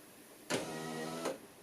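A classic car's electric window motor runs in one steady whirring burst of under a second, with clicks at start and stop, close and fairly quiet.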